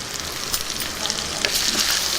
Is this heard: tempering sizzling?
yes